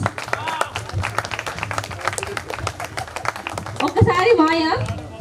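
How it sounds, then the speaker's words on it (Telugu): An audience at a sangeeth celebration claps in a busy, rattling patter beneath a voice that talks almost throughout, with music swelling in near the end. "ప్లీజ్ అందరూ ఒక్కసారి క్లాప్స్ కొట్టండి ప్లీజ్"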